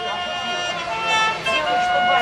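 A bright brass trumpet plays the St. Mary's trumpet call from a church tower in Krakow, Poland, holding a sustained melody that rings out over a noisy outdoor crowd with murmuring voices throughout.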